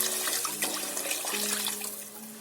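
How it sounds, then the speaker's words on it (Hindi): Water is poured into fried, dark-brown masala for a meat and lentil barriyan gravy, a soft, close splashing trickle with faint sizzling tones running briefly and quietly, no voices. "जो है वो हम इसमें वाटर ऐड करेंगे।"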